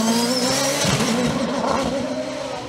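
A Nova Proto NP01 race car with a 1-litre turbo engine at the Bagnols-Sabran 2022 hillclimb: a loud, high-pitched engine note that shifts pitch as the car passes close by, with tire noise beneath.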